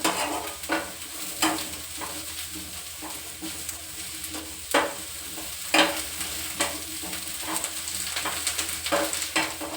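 Mushrooms fry in an oiled pan for a peppery dry dish, a constant sizzle broken by repeated scraping strokes of a spoon as they are stirred, close and fairly loud.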